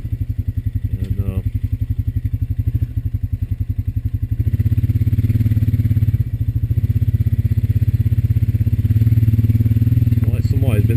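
A Honda Rancher 420 AT ATV engine riding a farm trail through an old tobacco field, a loud, steady, throbbing idle-to-cruise putter, close by, rising slightly midway, with someone talking intermittently over it.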